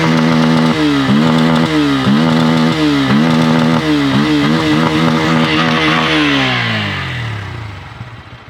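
A small-displacement motorcycle engine, in a budget bike compared against the Yamaha MT15, revs repeatedly to high RPM, its exhaust note climbing and falling in rapid blips for several seconds before dropping away to a fading idle, loud and close.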